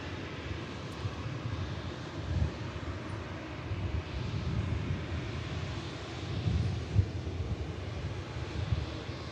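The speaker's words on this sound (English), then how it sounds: "Saudia 787 in the classic Saudia colours here." A Saudia Boeing 787 airliner at Manchester Airport makes a low, distant engine rumble with gentle swells, faint and steady under open-air wind noise, without any talk.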